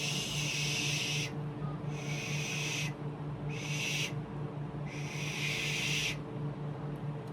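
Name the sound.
voice imitating a hissing shh sound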